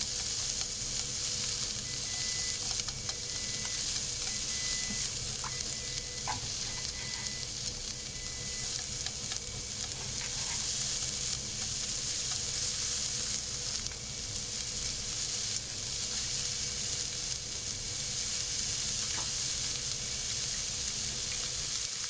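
Continuous loud sizzling of salmon stir-frying in a hot pan, steady and close, with faint stirring clinks and no talk.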